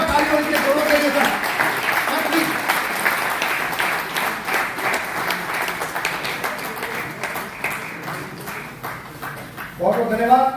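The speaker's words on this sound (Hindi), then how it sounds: "जोरदार ताली होनी चाहिए दोनों के लिए सर।" Loud, sustained applause and clapping from a crowd at a Delhi University celebration of Dr. B. R. Ambedkar's 133rd birth anniversary, with voices mixed in and a burst of speech near the end.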